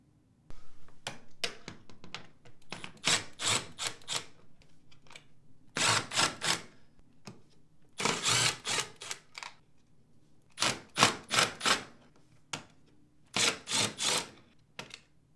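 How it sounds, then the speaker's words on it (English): Repeated bursts of close mechanical whirring and clicking from a 3/16-inch driver removing the screws holding a dishwasher's lower door seal, separated by short pauses. "Using a 3/16-inch driver, remove these 5 screws holding the lower door seal in place."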